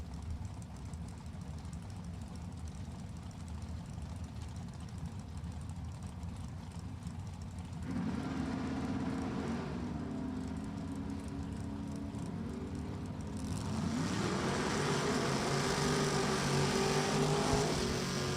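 Drag racing cars, an Oldsmobile against a Camaro, at Virginia Motorsports Park: a steady engine rumble from the distance swells in two stages, then tones rise as the engines rev harder, no talk over it.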